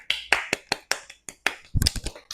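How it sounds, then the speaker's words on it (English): Sharp, separate claps ring out one after another at a slow, irregular pace, closing with a brief quicker flurry; a small round of applause from one or two people after a workout session. "A round of applause goes to you, Girly Pop"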